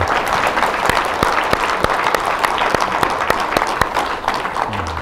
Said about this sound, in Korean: 저 뜨거운 박수 한번 부탁드립니다.